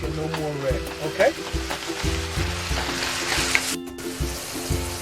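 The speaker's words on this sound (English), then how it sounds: "Let's cook it till there's no more pink and no more red." Ground beef sizzles steadily in a pan, a close constant frying hiss with stirring scrapes, while a voice talks over it with steady hum beneath.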